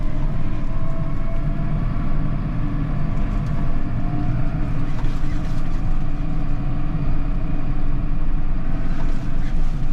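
A Massey Ferguson 7S 180 tractor's diesel engine drones steadily throughout, loud and close, with a constant rumble and faint mechanical whine as it drives along a road.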